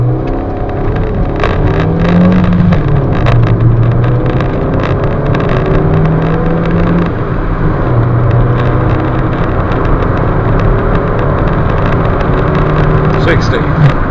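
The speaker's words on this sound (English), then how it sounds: "Let's start off with the basic 0 to 60 test in a moment." A 2011 Hyundai i20 1.2 Comfort accelerating hard from a standstill in a 0 to 60 test, its engine note steadily droning and rising inside the cabin with road and wind noise, loud and continuous throughout.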